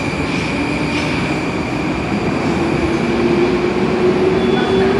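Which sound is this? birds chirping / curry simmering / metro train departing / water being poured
metro train departing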